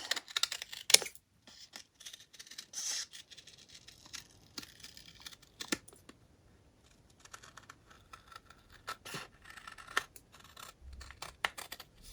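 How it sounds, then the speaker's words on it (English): Scissors cutting through folded paper for a handmade recipe card, bookmark or notepad: a run of quiet, close snips and crisp paper rustles with short pauses between cuts. "This way you cut just once because it's folded."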